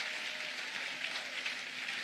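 A church congregation applauds God during a French-language worship service, a steady, dense wash of clapping that holds evenly loud throughout with no pauses.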